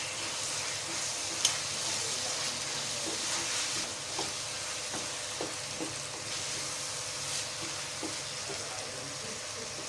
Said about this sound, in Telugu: మసాలా బాగా వేగినాక ఆయిల్ పైకి వచ్చేదాకా వేయించుకోవాలి.